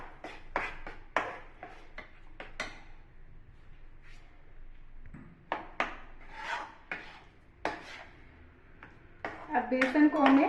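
Roasted besan (gram flour) is stirred by hand in a pan for besan ladoo, giving close, irregular scraping and clinking of a utensil against metal, with a rougher burst of scraping at the end.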